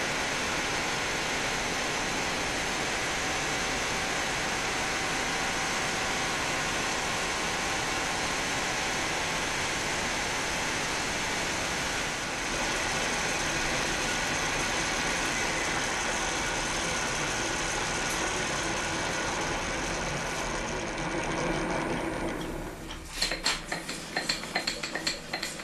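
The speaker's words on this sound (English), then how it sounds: "This end mill should be run a lot faster, but this old machine cannot run that fast." An old milling machine cuts metal with an end mill while making a parting blade holder, a steady dense mechanical grind with gear and ratchet-like whir running continuously, then breaking into irregular clattering near the end, with no talk.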